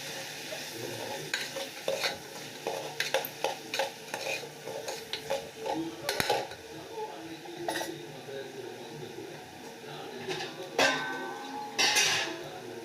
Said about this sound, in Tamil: மசாலாவோட சேர்த்து நல்லா வதக்கிக்கலாம்